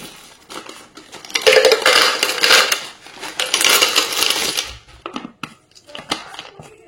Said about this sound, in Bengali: মিষ্টিটা আমি এর মধ্যে ঢেলে দিলাম।